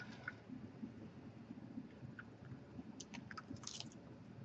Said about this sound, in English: You hear the crunch? The orange chips.